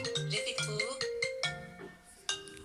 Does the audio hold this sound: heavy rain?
no